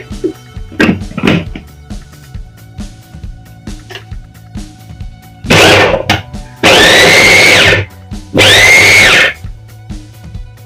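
A mixer grinder whirs through onion, garlic and coriander in three loud bursts, the last two long and steady, after a few short clicks and knocks; no one speaks.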